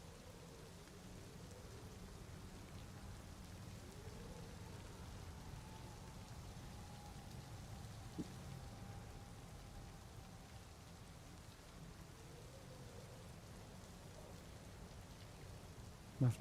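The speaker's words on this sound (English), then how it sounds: "I hear the rain from the first level." Steady rain falling in a video game run through GPTK 4, a soft constant patter with a faint thin tone drifting across it and no voices.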